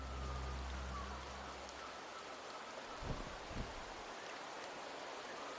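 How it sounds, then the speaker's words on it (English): Rain falls in the video game Wuthering Waves, a soft, steady hiss of drops with a couple of faint low thumps, quiet and continuous with no voices. "The rains in Septimont never seem eager to leave this season."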